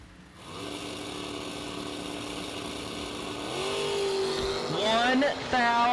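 Drag race cars, a Rambler wagon and a first-generation Camaro, rumble steadily near by, rising into a louder rev with rapidly climbing engine pitch toward the end.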